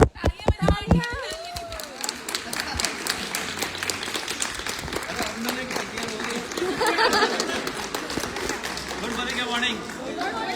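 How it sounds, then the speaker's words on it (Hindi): An audience breaks into clapping after a short spoken call, with many hands beating steadily and a murmur of chatter running underneath until the end. "तालियां बजाइए।"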